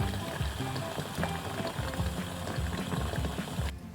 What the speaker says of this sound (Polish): i gotuję jajka 3 minuty